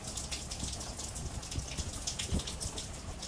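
Crinkly plastic rustling of 5-gallon grow bags being pulled open, close and continuous with a few sharper crackles.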